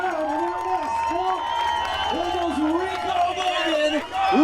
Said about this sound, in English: Michael, what a wonderful crowd